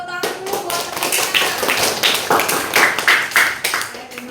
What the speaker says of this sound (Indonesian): kasih tepuk tangan dulu buat temannya